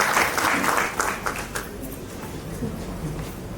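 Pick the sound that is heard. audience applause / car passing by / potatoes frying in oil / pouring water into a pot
audience applause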